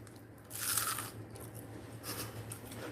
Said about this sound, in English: Can y'all hear how crunchy they are?